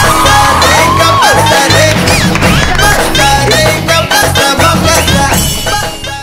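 A college campus contest crowd breaks into loud, sustained clapping mixed with cheers, whoops and shouts as the winner is announced, with a dense, continuous roar lasting several seconds.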